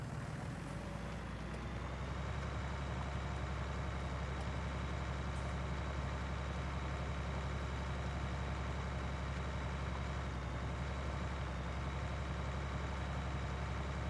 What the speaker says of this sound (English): Don't know if you can hear the engine kind of